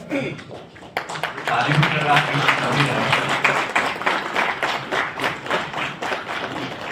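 At a district court retirement ceremony in Ghazipur, a crowd breaks into sustained applause after a moment of talk, clapping loudly and evenly, then thinning into scattered claps.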